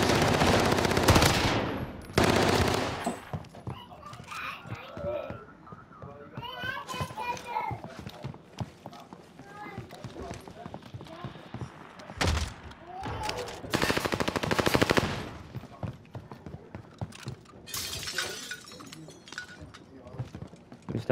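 Video game gunfire erupts in several loud rapid bursts, automatic fire crackling near and sharp, separated by quieter stretches where players talk over the game sounds.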